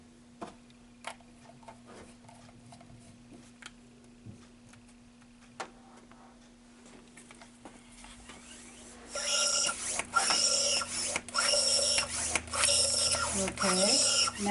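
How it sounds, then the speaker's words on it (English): Bicycle pump driving a nebulizer with albuterol, starting with faint scattered clicks and ticks, then a rhythmic series of close whooshing pump strokes for the last five seconds, with a voice briefly present. "to nebulize with albuterol 3 cc's with the bicycle pump"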